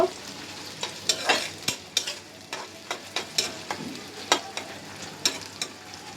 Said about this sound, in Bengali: এখন পেঁয়াজটা ভাজা ভাজা হওয়া পর্যন্ত অপেক্ষা করব